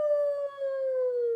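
A voice imitates a wolf howling at the moon, a single long, sustained tonal howl that glides slowly downward in pitch, loud and alone.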